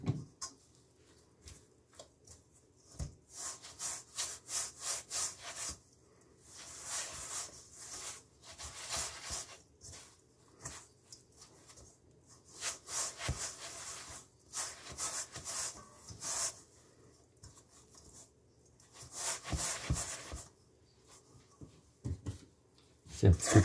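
Sticky sourdough rye dough scraped from the bottom of a mixing bowl: soft, rhythmic rubbing and scraping strokes in repeated clusters with pauses, quiet and close, while a person speaks between strokes.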